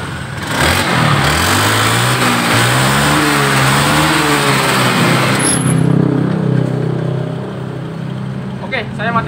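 Fuel-injected motorcycle engine that had suddenly stalled is cranked to life, then revved in rising and falling sweeps before settling, loud and close in a workshop, cutting off near the end; someone speaks briefly.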